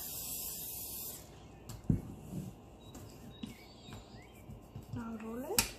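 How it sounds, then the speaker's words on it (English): Cooking oil is sprayed onto a kitchen work surface before rolling poori paratha dough: a brief hiss of spray at the start, followed by quieter handling sounds. "Spray some oil on the surface."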